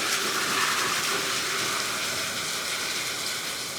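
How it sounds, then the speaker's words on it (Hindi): Heavy rain pours outside a hotel in Mopa, Goa, making a dense, steady hiss and splatter that stays loud and unbroken throughout, with no voices. "बहुत बढ़िया झमाझम बारिश।"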